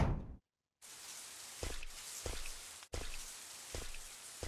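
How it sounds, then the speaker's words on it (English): Rain in the video game Bio Hazard 3 hisses steadily after a short silent gap at the start, with soft thudding footsteps thumping at regular intervals throughout. "it's still raining outside"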